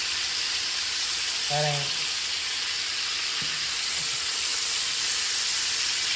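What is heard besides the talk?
jerk chicken pieces browning in a pot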